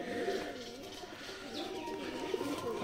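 Soft pigeon cooing repeats in a low, rolling rhythm against faint background noise, fairly close.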